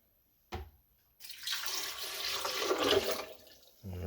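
Water poured into a blender jar holding almonds for homemade almond milk: a short splash, a pause, then a sustained gushing pour that builds and fades before another splash starts at the end.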